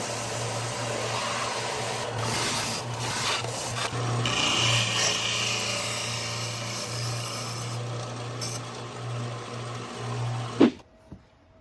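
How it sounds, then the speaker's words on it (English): Steady, continuous sanding on wood, a rough rubbing hiss that runs nearly unbroken, close and fairly loud, stopping with a small knock near the end. "Next, give it a good sanding."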